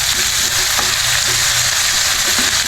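Fresh vegetables sautéing in a hot pan give a loud, steady sizzle with crackling spits throughout, close up and with no voices.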